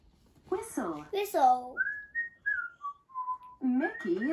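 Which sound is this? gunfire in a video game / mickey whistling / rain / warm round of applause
mickey whistling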